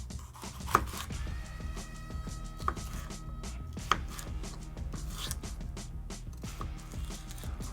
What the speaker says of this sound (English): we have the pepper, so I'm gonna go ahead and slice this